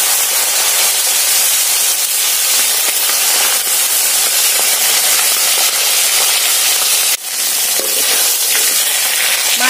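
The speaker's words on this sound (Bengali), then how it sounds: "এবার মাছটা ভেজে নেব।" Fish fries in hot oil with a loud, continuous, dense hiss and sizzle that holds steady throughout, dipping only briefly once near the end.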